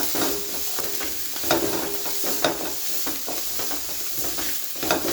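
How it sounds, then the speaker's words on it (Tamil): Dried chili, onion, ginger and garlic sautéing in a pan, a constant close sizzle and fry with repeated scraping stirs of a spoon across the pan. "காஞ்ச மிளகா வெங்காயம் இஞ்சி பூண்டு எல்லாம் போட்டிருக்கேன் இப்போ இதையும் நல்லா வதக்கிக்கோங்க"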